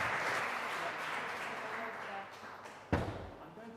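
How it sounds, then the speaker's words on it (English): An audience at an awards ceremony claps in a steady wash of applause under a voice, ending in a sharp thump near the close. "keep the applause going for Enid"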